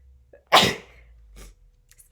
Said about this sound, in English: Apparently I have to sneeze today.